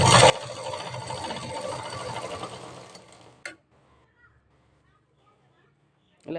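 A sewing machine runs a steady stitching burst through four or five layers of scrap blouse fabric sewn into a belt, then stops abruptly, with a voice talking over it.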